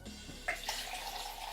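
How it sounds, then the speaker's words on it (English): Tap water running into a container for a simple homemade tomato sauce, a steady close hiss of flowing water that rises in pitch as the vessel fills. "Then we want to fill this with water."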